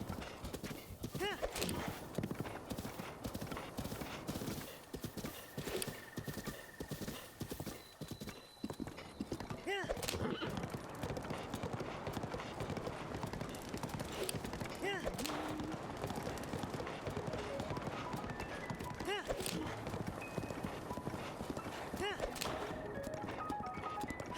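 Horse hooves galloping in Breath of the Wild, a continuous fast clip-clop rhythm with occasional neighs, mixed with game sound effects and someone talking now and then.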